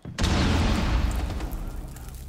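A breach charge blows through a ceiling in Rainbow Six Siege, a sudden loud boom at the start that rolls into a long, heavy rumbling decay with scattered debris, with no talk over it.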